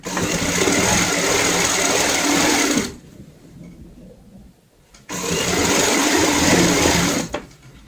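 A sewing machine stitching fabric for a cloth snake runs in a loud, continuous whir for about three seconds, pauses briefly in near silence, then starts again for another long run before stopping.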